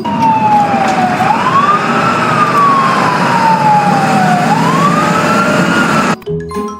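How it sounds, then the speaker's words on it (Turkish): A loud siren wails steadily, sweeping slowly up and down in pitch, close by, before cutting off abruptly near the end. "Polis arabası da böyle ses çıkartır."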